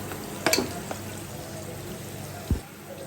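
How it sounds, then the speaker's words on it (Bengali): Onions fry in a hot kadai with a steady, moderate sizzling hiss. A few sharp clinks and one low thump from stirring break through the sizzle. "এই তো আমি পেঁয়াজ দিয়ে দিচ্ছি। পেঁয়াজগুলো ভাজা হয়ে আসছে"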